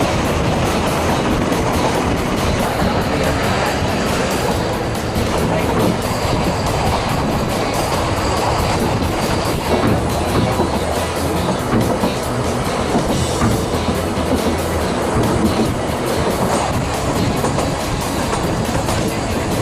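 A Welsh narrow gauge heritage railway train heard from an open carriage, with a loud, steady rumble and rattle of wheels on track and continuous clatter throughout.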